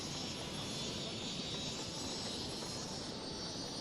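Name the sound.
airplane taking off in Cities: Skylines video game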